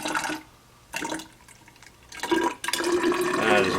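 Blueberry mead must poured from a container in bursts, short splashing gushes separated by pauses, then a longer steadier pour with liquid sloshing close by.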